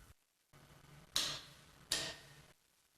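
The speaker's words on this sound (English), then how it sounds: "a common clicker torque wrench" A common clicker torque wrench gives two sharp, distinct clicks about a second apart, close and clear in a quiet room.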